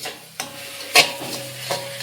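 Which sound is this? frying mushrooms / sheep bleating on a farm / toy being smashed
frying mushrooms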